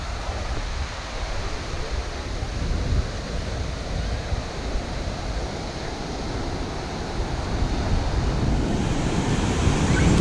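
Ocean surf breaks on a beach by an aquarium, small knee-to-thigh high waves stirred by a typhoon swell, a steady broad wash of water and wind that swells louder toward the end.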